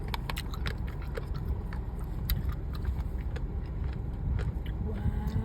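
Crunchy biting and chewing of fried bullet jellyfish at a temple fair, heard close up as repeated sharp crisp crunches over steady crowd and traffic noise.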